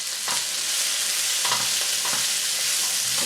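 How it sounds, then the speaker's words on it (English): Grated garlic stir-fried in a pan, a steady close sizzle broken by soft scraping pushes of a utensil as it is kept moving. "You don't want to burn the garlic, but on the same token you do want to cook the garlic, so keep it moving."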